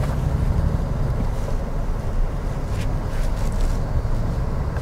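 A 2022 Toyota Tundra TRD Pro pickup sweeps past on an off-road track, a steady loud roar of engine and tires mixed with wind buffeting across the microphone, with no talking.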